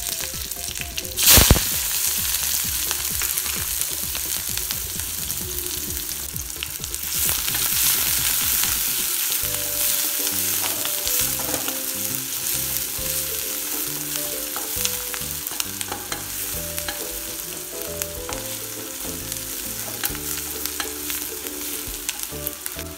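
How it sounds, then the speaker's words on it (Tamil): Steady, loud sizzling of curry leaves frying in hot oil for tempering, with crackles and a sharp pop near the start, continuing without pause. "தாளிக்கவும்."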